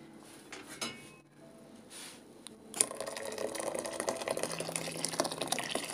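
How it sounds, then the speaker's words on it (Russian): Boiled water poured into thick pancake batter in a home kitchen, a steady trickling splash that starts partway through and continues to the end, close and moderately loud. "Сейчас я добавлю кипяченой воды и оставлю, чтобы оно немножко,"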